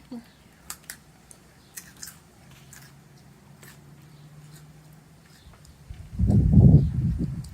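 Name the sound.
child chewing crunchy carrots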